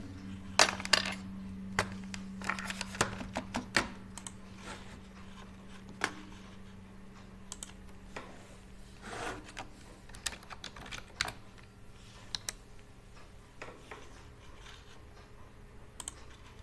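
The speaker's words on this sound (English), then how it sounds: "I need to get my keyboard over here though." Keys clack on a computer keyboard in a quiet room, irregular bursts of clicks clustered early then spaced out, close and crisp over a low steady hum.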